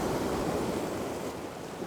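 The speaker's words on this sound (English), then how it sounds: "I'm just waiting for some bigger waves to come in" Ocean waves breaking on a shore, a steady rushing wash that eases slightly toward the end, heard alone without talk.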